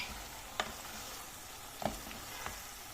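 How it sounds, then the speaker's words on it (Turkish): Eggplant and kavurma fry in a pan with a steady soft sizzle, broken by a few sharp clinks and scrapes of stirring at close range. "Patlıcanlarımız da güzelce kavruluyor."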